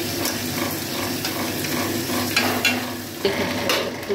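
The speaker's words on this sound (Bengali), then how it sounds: "খুলে দেখাচ্ছি তরকারি করে ফুটছে" Fish curry bubbling in a pot after water has been added, a steady simmering hiss with soft bubbling pops and a few small clinks, close by and fairly quiet, with no voices.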